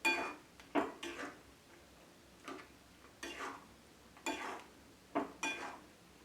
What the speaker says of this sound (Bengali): দিয়ে ভালোভাবে আমি সমস্ত উপকরণ ভালোভাবে মিশিয়ে নেব নেড়ে চেড়ে।